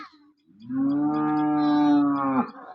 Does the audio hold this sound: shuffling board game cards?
no